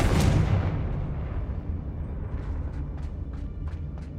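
A Confringo spell blast in Hogwarts Legacy, a loud booming fiery explosion up front that rolls off into a long rumbling decay, with a few crackling pops scattered near the end.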